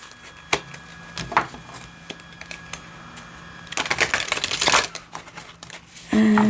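Tarot cards shuffled and handled during a reading, giving bursts of papery riffling and flicking that build toward a louder stretch, with quiet gaps between.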